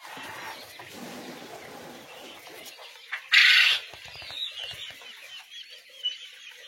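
Goliath chickens on an African poultry farm clucking softly and continuously close by, with one brief louder squawk or wing flutter partway through and scattered faint calls afterward.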